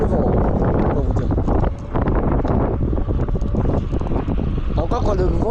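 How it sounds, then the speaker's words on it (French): Strong wind roars and buffets the microphone while a rider travels at night on a Kukirin G2 Master electric scooter. The gusty rush is constant and loud, and someone talks over it. "Oh là là, il y a beaucoup de vent."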